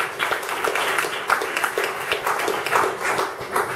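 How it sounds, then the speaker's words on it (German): An audience at a lecture on the Golden Hat claps in a moderately sized room, individual claps distinct and fairly close, rising and falling in uneven bursts that continue throughout. "Das ist sicher ein Applaus wert."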